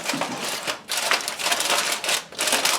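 Aluminium foil crinkles and rustles in bursts as it is wrapped tightly over a smoked pork shoulder, the crumpling loud and close with brief pauses between handfuls.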